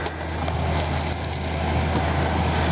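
A bogged Toyota 4WD revving steadily on a bush track with road-type tyres, its wheels spinning, a loud continuous engine roar close by with no talking.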